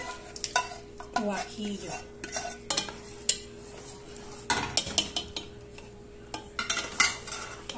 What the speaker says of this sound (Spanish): lo vamos a revolver bien hasta que se disuelva, hasta que se mezcle